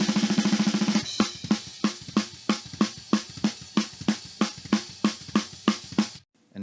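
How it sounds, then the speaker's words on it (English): Soloed drum shell microphones with no gating, a steady run of roughly a dozen evenly spaced drum hits, each with a thuddy body and a wash of cymbal and kit bleed between strokes, after an opening sustained cymbal-heavy roll. "if I now solo like all my shells, like without any form of gating, it would sound something like this"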